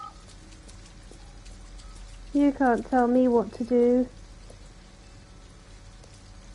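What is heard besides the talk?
rain in video game Detroit: Become Human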